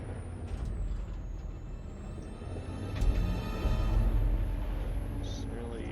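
Truck in the Detroit Become Human video game, its engine rumbling steadily while a loud air-brake hiss bursts out midway, with a voice talking briefly over it.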